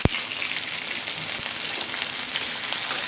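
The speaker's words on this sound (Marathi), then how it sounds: "आता हा कांदा आपला तेलाचा जवळपास चांगला तळलेला आहे" Onion fries in oil, a steady, bright crackling sizzle heard close, with a sharp tap at the start and a soft knock midway, no talk.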